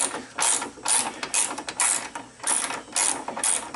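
A ratchet wrench backs out 10mm headlight bracket bolts on a 2008-2012 Subaru WRX, with about eight quick bursts of rapid clicking separated by short pauses, close and clear.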